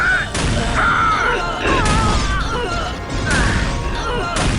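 Artillery bombardment in a Warhammer 40K strategy video game, a series of heavy booming impacts and crashes layered over dense battle noise, loud and continuous, with someone talking throughout.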